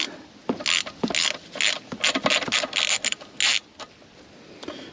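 A hand ratchet clicks in quick bursts while loosening the axle bolts on a 2015 Kawasaki Ninja 1000ABS motorcycle, close and crisp, with a few short pauses between runs of clicks.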